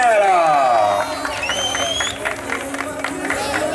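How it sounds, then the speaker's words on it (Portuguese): A gathered crowd claps and cheers loudly, with whoops and excited voices rising over the applause before it settles into scattered clapping and chatter. "Uma salva de palmas"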